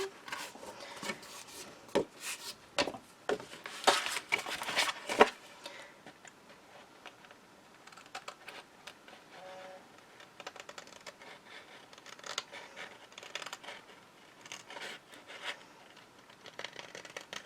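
Scissors cut along the edge of craft card in a run of faint, close snips and rustles, busiest early on and then sparser and quieter.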